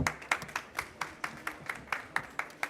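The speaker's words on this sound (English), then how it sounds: "Big hand for this panel" Scattered audience clapping for a conference panel on water and sanitation investment, individual claps spaced in a loose, uneven rhythm rather than a full ovation, fairly faint and distant.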